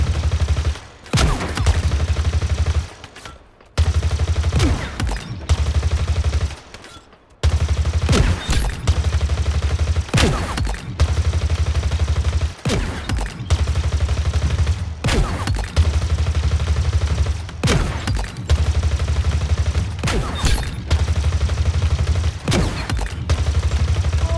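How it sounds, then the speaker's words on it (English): The needler, a close-range weapon in the video game Halo Infinite, fires in long, loud, rapid streams of shots, broken only by a few brief pauses, with no voices over the firing. "The needler is definitely a weapon in close range that is absolutely deadly and will rip through enemies and their"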